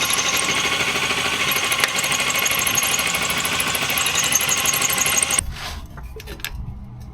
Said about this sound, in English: So we're gonna hop under there, drill it out, put in a helicoil